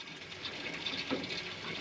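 Water rushing from a just-opened tap, a steady hiss-like flow with a brief gurgle, heard close and alone.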